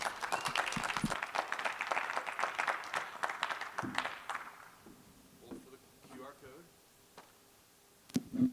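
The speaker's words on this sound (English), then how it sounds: "Big round of applause." Audience applause at a startup venture competition pitch event, dense clapping filling the first four seconds and then fading out, with scattered claps and murmurs afterward.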